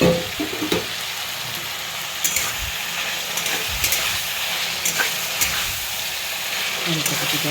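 Chopped tomatoes frying in a spice paste, giving a steady moderate sizzle with occasional sharper clinks and spatters throughout, no voice over it.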